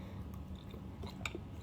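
Chewing grilled chicken breast meat, a soft close-up mastication with faint crunchy bites in a quiet room, steady for under two seconds with no talking.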